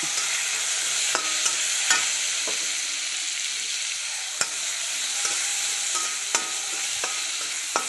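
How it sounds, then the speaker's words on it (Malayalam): Onion and tomato fry in a pan for broccoli curry, a constant near sizzle with regular sharp clicks of a spatula stirring against the pan, loud and without talk. "ഇനി ഇത് ഉള്ളി വഴന്ന് വന്നിട്ടുണ്ട് ഇതിലേക്ക് ഒരു തക്കാളി ഇട്ടെടുക്കുന്നുണ്ട്"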